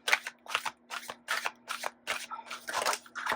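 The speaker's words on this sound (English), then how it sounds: "I just want to do a shuffle" Playing or tarot-style cards are shuffled in quick rhythmic riffles, about a dozen crisp bursts close to the listener, with a faint steady hum underneath and no talking.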